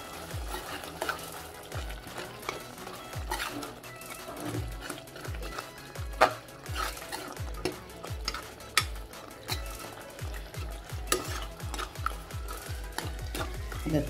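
Curd is stirred into bitter gourd thokku in a pan, with repeated rhythmic spatula scrapes and knocks over a low, continuous sizzle, close and busy throughout.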